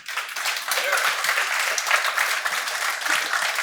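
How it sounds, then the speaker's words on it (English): An audience applauds the startups at an AI demo day, a short burst of dense clapping that swells quickly and holds steady, with some voices mixed in. "please join me in giving one more big round of applause for everybody"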